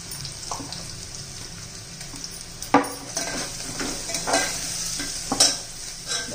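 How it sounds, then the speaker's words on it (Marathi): Onions fry in a pan as asafoetida goes in for masale bhat, with a steady close sizzle under a few scraping stirs and light clanks of a spoon against the pan. "छान असा आपला कांदा झालेला आहे। आता त्याच्यात हिंग घालायचा थोडासा"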